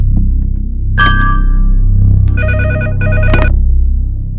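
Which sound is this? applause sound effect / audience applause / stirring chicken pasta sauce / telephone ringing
telephone ringing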